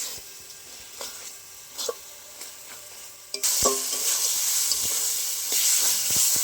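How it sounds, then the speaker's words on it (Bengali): Spice masala for chicken bhuna frying in oil, with scattered stirring scrapes, then a sudden loud hissing sizzle that swells and continues steadily, close up, with spoon knocks against the pan. "মশলাটা একসাথে ভালো করে কষতে হবে, তেল ছেড়ে দেওয়া পর্যন্ত"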